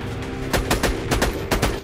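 Borderlands 2 gunfire cracks out as a rapid series of loud, close shots in uneven bursts, about eight reports in under two seconds, with no talking.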